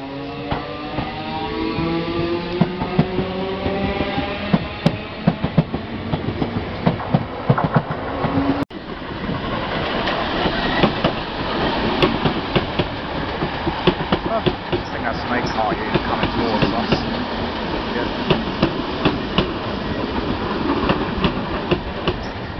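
A London Overground or TfL Rail class 317 or 315 train rumbles past on the rails, a steady clatter of wheels with rhythmic clicks and metallic squeals, continuous and fairly loud throughout.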